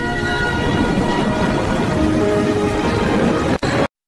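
Train rolling through a rain-soaked station in an AI-generated scene, a steady broad rumble and rail clatter with rain hiss throughout, loud and continuous until a brief break near the end.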